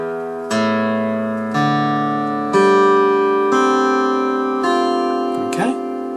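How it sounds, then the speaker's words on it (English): Six plucked guitar notes in an altered tuning, evenly spaced and ringing out close and clear, each struck note sustaining before the next; a brief scrape near the end. "And then your 6th string should sound like this."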